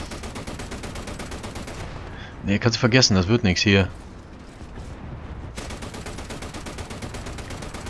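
Steady rapid autocannon fire from an AS42 in the video game War Thunder thuds in fast repeating bursts, pausing while someone talks briefly, then resuming at the same relentless pace.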